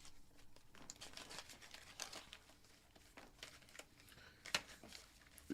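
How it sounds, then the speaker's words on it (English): Playing cards are shuffled by hand at a table game, giving soft, quiet rustling and flicking bursts with a sharper snap near the end. "We got to shuffle it better then."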